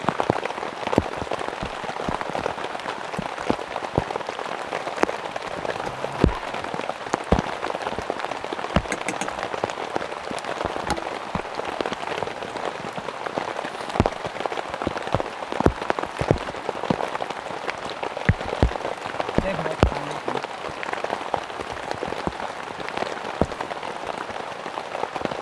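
Heavy rain pours steadily onto a hot camping tent in a deep forest during a thunderstorm, a dense patter of close drops with sharper spattering hits throughout, no voices.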